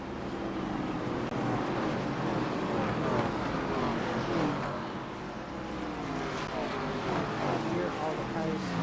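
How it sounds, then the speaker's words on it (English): Race car engines from the iRacing game in an ARCA night race drone continuously in a dense, steady roar with shifting pitch, loud and unbroken throughout. "I gotta turn down the car sounds or else no one on the chat will be able to hear me"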